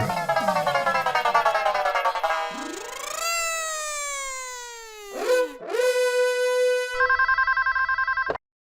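A telephone in a TV comedy rings with a loud, electronic, melodic ringtone of sliding, warbling tones that runs for several seconds and then cuts off abruptly.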